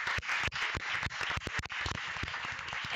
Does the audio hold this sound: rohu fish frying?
no